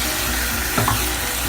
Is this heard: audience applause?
no